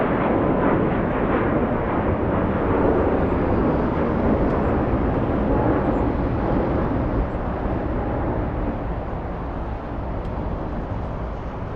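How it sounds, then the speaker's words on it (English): Qatar Airways Airbus A350 jet taking off at LAX, a loud continuous broadband engine roar that holds steady and eases slightly toward the end, with no talking. "Okay, so we have the Qatar Airways A350."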